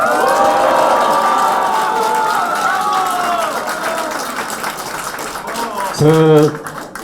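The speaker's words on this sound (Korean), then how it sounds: "박수 한번 쳐주세요" A crowd at a campaign office opening ceremony applauds and cheers loudly, the clapping fading over several seconds before a voice cuts in near the end.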